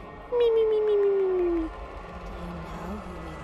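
Catnap, the cat monster in the horror video game Poppy Playtime Chapter 3, lets out a single long, loud descending meow-like wail lasting over a second, followed by quieter game ambience.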